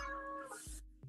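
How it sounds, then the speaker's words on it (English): A cat lets out a drawn-out, whiny meow close by, followed by a brief rustle and a soft thump; no talking. "Excuse the cat crying."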